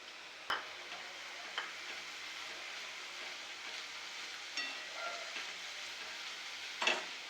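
Onions sizzle quietly in a pan for Uttara Karnataka style sabsi palya, a faint steady frying hiss broken by a few soft clicks and stirring taps.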